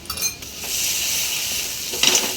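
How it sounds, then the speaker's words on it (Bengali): Spice masala with onion fries in a pan with a steady hiss, and a utensil scrapes and clinks as it stirs, close and alone. "সবটা মশলা এখন আমি একসাথে কষে নেব।"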